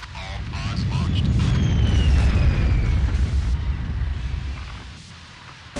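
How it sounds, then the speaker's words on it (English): Explosions blast in the racing video game Wipeout, a loud, sustained low rumble swelling and fading over several seconds, with thin descending whines streaking above and voices talking underneath. "There are explosions. Explosions make you go fast."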